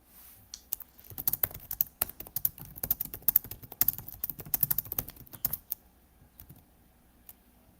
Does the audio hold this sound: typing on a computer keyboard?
yes